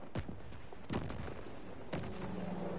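Gunfire in the video game Vanguard: three heavy, booming shots spaced about a second apart, loud and close over a constant noisy game background, like a large cannon.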